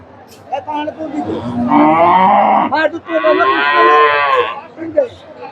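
A dairy cow at a traditional cattle market in Gabtali, Bogura, lets out two long, loud, close moos, with market chatter and a voice around them.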